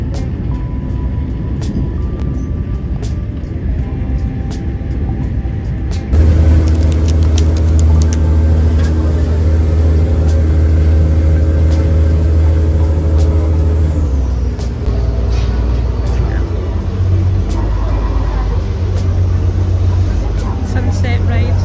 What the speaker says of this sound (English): Sunset ride on the water bus.